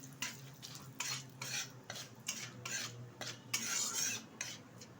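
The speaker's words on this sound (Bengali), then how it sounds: "এবার ভালোভাবে আমি ফোড়নটা ভেজে নেব" Bay leaves and whole cumin frying in ghee, a quiet sizzle under repeated scraping and stirring strokes of a metal spoon against the pan.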